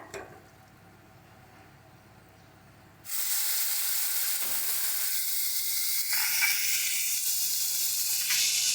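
Cinnamon and dried chilli frying in oil, then onion paste added, bringing a sudden loud burst of hissing sizzle that settles into a steady, close crackling fry.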